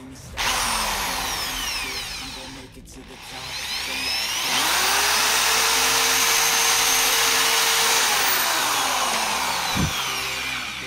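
A power drill bores holes into the housing of a Honda Civic G8 headlight, whining loudly and steadily with a brief pause between bursts and a pitch that shifts as the bit cuts.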